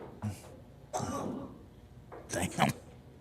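A smoker's cough heard in a pool hall during a 10-ball championship: a few harsh, throaty coughs and throat clears in separate bursts, close and moderately loud, with faint room noise between them.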